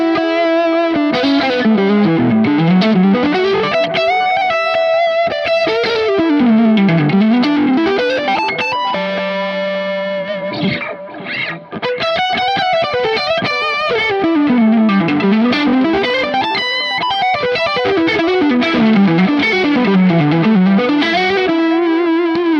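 Distorted lead guitar through an Anasounds Utopia Deluxe delay, a flowing melodic line with repeating echoes trailing behind the notes, loud and continuous with a short thinner passage midway.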